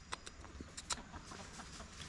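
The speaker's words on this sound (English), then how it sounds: "the dog scared the chickens" Chickens in a Costa Rica garden cluck and squawk in short scattered bursts after a dog startles them, fairly faint and a little distant over quiet outdoor background.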